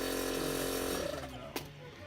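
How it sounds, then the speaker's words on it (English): An air compressor for bagging a generator starts up, its dense, steady motor drone running loud and close before it drops lower and settles into a quieter hum, with a short sharp burst partway through. "Just hooked up the power to the compressor"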